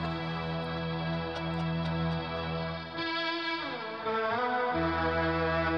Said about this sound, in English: Now turn the space echo.